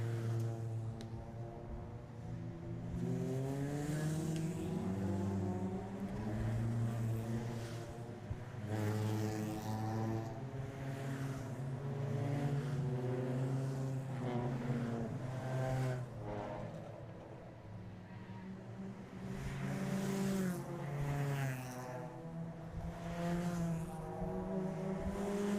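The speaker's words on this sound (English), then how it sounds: "On board here, Michael Cullen, the LOH Motorsport car." Onboard engine of the LOH Motorsport race car on a wet warm-up lap, a steady droning engine note rising and falling with gear changes, close and continuous throughout.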